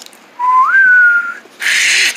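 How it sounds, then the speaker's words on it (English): A single clear whistle, rising then holding steady, loud and close, followed by a burst of hissy noise. "Did you hear a whistle? It sounded like a whistle."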